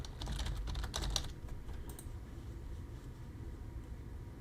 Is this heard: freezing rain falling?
no